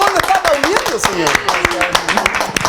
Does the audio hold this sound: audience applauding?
yes